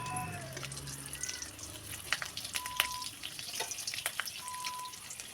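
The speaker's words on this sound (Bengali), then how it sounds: "রসুন ভাজা হয়ে গেলে" Garlic fries in oil with nigella seeds in a pan, a quiet, steady sizzle with scattered crackles and pops. Faint clinks and a few tonal kitchen sounds run beneath it, and no one speaks.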